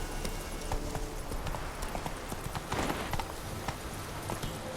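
Horse hooves trotting in The Witcher 3, a steady rhythmic clip-clop at moderate distance, continuous over ambient game sound.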